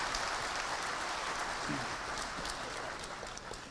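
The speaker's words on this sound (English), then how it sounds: "How about a round of applause for our panelists?" Applause for panelists at a public meeting on chronic wasting disease in Bolivar, Tennessee: a steady patter of clapping with a brief voice in the middle, easing slightly toward the end.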